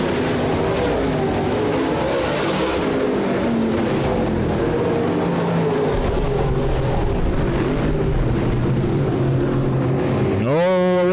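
Midwest Late Model race cars roaring past during a speedway heat race finish, loud engines rising and falling as cars pass, with another car revving sharply up near the end and an announcer talking over the noise.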